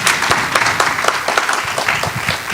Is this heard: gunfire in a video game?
no